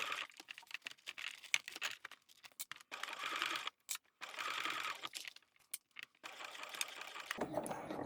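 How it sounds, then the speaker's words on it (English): A sewing machine stitches binding on waterproof canvas, running in bursts of steady whirring with short pauses between runs, close and fairly loud with no talking. "I'm going to backstitch at the beginning and sew all the way around."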